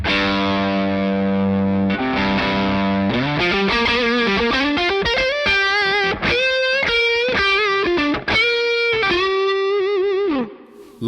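A JHS Bonsai 9 Way Overdrive pedal drives a distorted electric guitar while its tone knob is swept. Sustained chords give way to a loud, continuous melodic lead line that ends with a brief dropout.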